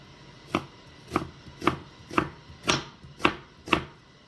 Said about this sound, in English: I'm cutting up my onion. And my chili pepper